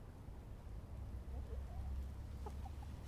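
Silver Laced Wyandotte and Buff Orpington hens give a few faint, scattered clucks over a low outdoor rumble.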